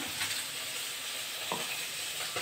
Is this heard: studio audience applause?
no